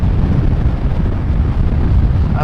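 Steady, loud wind roar buffeting the microphone on a Kawasaki ER6N motorcycle riding at speed on a dry, hot highway, a continuous low rumble, with no voices.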